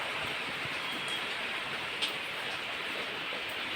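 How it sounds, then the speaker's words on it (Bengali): Steady light rain falling, heard from a balcony, a continuous even hiss with faint patters on a surface, heard from a short distance, no voices. "এই দেখো বৃষ্টি, দেখতে পাচ্ছ?"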